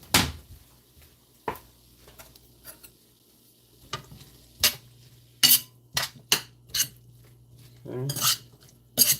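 Canned green chilies get stirred in a pan, a string of sharp metal clinks and scrapes coming in uneven bursts, close by, with quiet pauses between the strokes.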